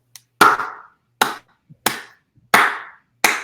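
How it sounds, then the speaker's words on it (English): Five separate loud hand claps or short bursts of clapping, spaced about a second apart, close to the microphone in a quiet room during a Google Hangouts session, with no voices. "Round of applause for them"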